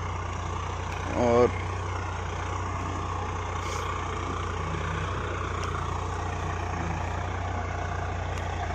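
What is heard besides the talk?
tractor engine running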